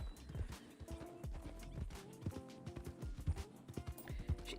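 In the Red Dead Redemption 2 video game, a big white horse clip-clops with irregular, close hoof strikes, while a soft musical tone and faint ambient sounds play quietly beneath it.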